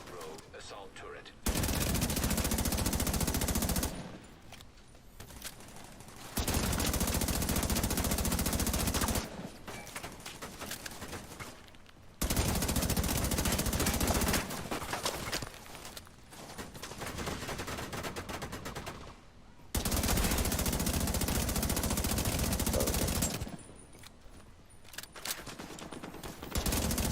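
Rogue assault turret in The Division 2 firing in long automatic bursts, loud and dense, alternating with short quieter gaps over several cycles, with game voice lines in between.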